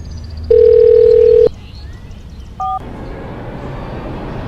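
Single continuous telephone tone, loud and steady for about a second, then a brief higher beep after a pause, over a low background hum with no voices.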